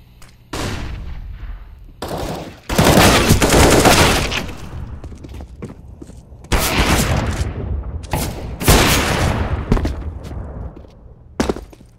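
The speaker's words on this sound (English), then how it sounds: "Throwing a flashbang." Counter-Strike match audio with a flashbang grenade in play, loud bursts of gunfire-like cracks and booms arriving in several separate clusters with brief quiet gaps, close and harsh, with no talk.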